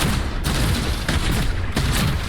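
Rapid automatic gunfire rattles from a held trigger in the video game Predecessor, a loud, dense burst of repeated shots with a few heavier booming accents, no talk.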